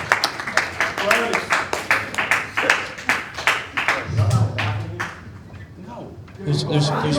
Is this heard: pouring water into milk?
no